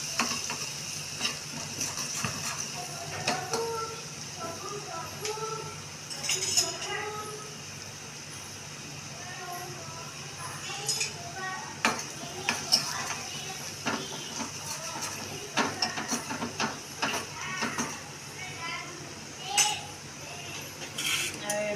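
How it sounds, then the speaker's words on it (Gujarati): Garlic and Kashmiri chili frying in oil in a pan for a dal tempering, a steady soft sizzle with clicking and scraping as a spoon stirs it, close by, with occasional faint voices in the background. "કાશ્મીરી મરચું નાખશું કલર આવે લસણને બરાબર ચડવા દેશું"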